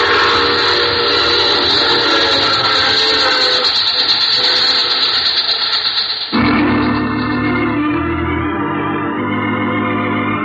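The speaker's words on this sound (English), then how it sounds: "I take this same train every week at this time." Train sound effect in an old radio drama: a loud rumbling passenger train with a whistle blast, cutting abruptly to a lower, steadier rolling clatter with wheel rhythm, and nobody speaking.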